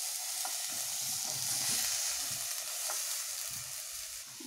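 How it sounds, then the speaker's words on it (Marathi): Corn kernels fry in a covered pan, giving a steady close sizzle with faint popping crackles throughout and no talking. "आपले मक्याचे दाणे मस्त फ्राय झालेले आहेत."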